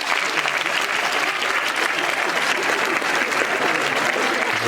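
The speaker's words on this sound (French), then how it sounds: "Et vous pouvez applaudir tout le jury." A large theatre audience at an improv show applauds steadily, with dense, even clapping that holds a constant level throughout.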